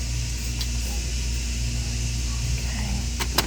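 Loud, constant ventilation roar fills a store toy aisle, a steady droning hum with a few faint clicks near the end and no talking.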